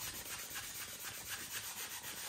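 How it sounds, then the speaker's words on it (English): A gray Scotch-Brite pad scrubbed across the wet door of a 1951 Vendo 39 Coke machine, soft rhythmic back-and-forth rubbing strokes, close and quiet with no talking. "And then use your gray Scotch-Brite."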